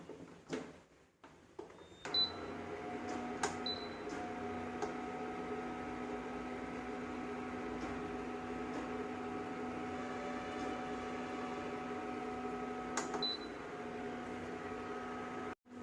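A steady electrical hum from an induction stove drones on with a few short beeps, starting after a brief click and cutting off abruptly at the end.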